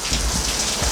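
Rain splashing into an open garage makes a steady, dense hiss of drops hitting the floor, loud and close, with low rumbling patter and no voices.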